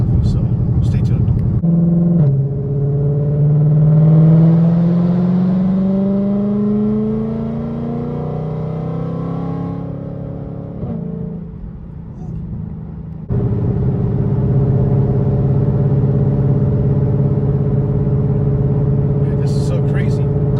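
Ford Shelby GT500 V8 rumbling steadily while driving, with deep low engine drone and rising revs, loud and close throughout, briefly dipping before resuming a strong steady roar.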